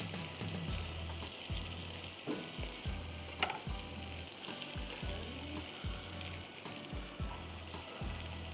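Garlic sizzles steadily in a hot pan while a spoon stirs it in regular scraping strokes, the frying crackle continuous and close throughout.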